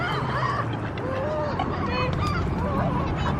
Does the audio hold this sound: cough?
no